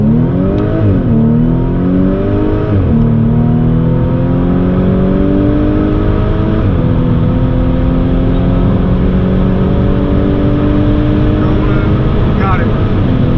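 A B8.5 Audi S4 with an APR Stage 2 tune and dual pulley accelerates hard through a quarter-mile run from inside the cabin, engine droning and climbing in pitch with distinct drops at each gear shift.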